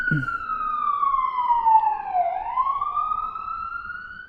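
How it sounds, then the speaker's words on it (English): A siren passes along a nearby street outside, its wailing tone sweeping down and then back up in a single clear cycle, moderately loud and heard alone after a brief opening sound. "You guys might be hearing a little bit of sirens because they have to choose this street."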